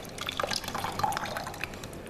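Water draining out of an upturned Morphy Richards Power Steam Elite steam generator into a sink, heard as a quiet, irregular run of drips and trickling splashes.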